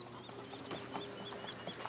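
Chickens cluck in the video game A Plague Tale: Requiem, short chirpy clucks repeating every so often over a steady outdoor village ambience, moderately faint and without talk.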